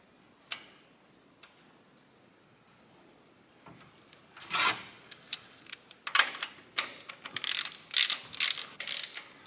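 Fitting being tightened on a 1972 Ford Mustang: soft clicks at first, then a run of sharp ratcheting ticks in quick irregular bursts, close by and clear.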